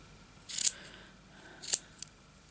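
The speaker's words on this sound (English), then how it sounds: "you just get these bits here and cut them, of course" Scissors snip through yarn for a pom-pom, two crisp cuts near the start and middle plus a faint third click, close and clear with no talking.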